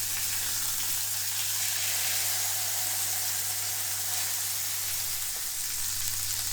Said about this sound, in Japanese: 片方の面が焼けたので裏返します。